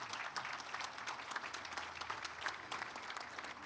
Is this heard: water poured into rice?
no